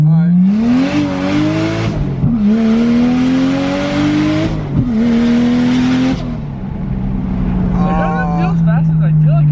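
A Toyota Chaser's JZ engine pulls hard while driving, its tone rising steadily through several gears with a drop at each shift, loud and close from inside the car, with people talking over it.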